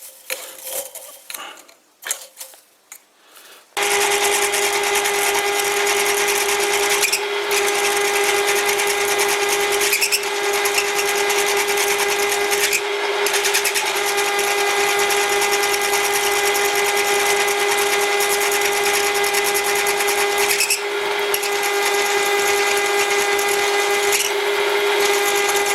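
A drill bores into metal on a lathe, making a loud continuous whine with a strong steady tone. It starts abruptly after a few seconds of quieter clattering and runs with brief dips and small stutters.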